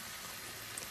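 Turkey breast cutlets frying in a pan, a steady close hiss and sizzle of hot oil that runs evenly throughout, with no talk over it.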